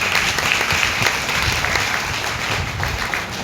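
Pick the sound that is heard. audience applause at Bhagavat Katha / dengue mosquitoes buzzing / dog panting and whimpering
audience applause at Bhagavat Katha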